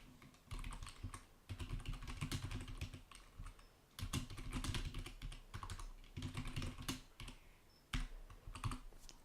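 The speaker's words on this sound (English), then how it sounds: "we're just going to type in hello world." Close, steady typing on a computer keyboard as someone enters a short line of code in the Vim editor, with bursts of rapid clicks broken by brief pauses and no voices.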